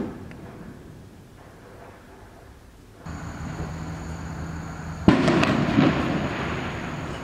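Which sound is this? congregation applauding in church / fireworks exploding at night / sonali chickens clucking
fireworks exploding at night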